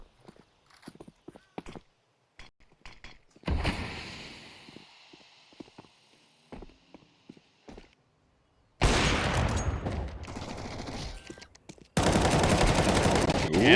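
Bursts of MAC-10 submachine-gun fire and a flashbang pop in a Counter-Strike match, scattered sharp shots early, then loud sustained sections of rapid fire, with quiet gaps between.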